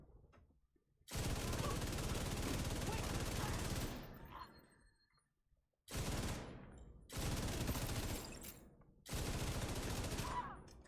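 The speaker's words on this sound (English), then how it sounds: "when it comes to how fast we're shooting, and the burst is kind of wild" Light machine gun fire in The Division 2 from a Tinkerer build, loud sustained bursts of rapid automatic shots: one long volley, a pause, then three shorter bursts in quick succession.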